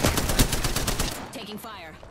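Rapid automatic gunfire in the Apex Legends battle royale shooter, a loud dense burst of shots that thins out toward the end amid game effects.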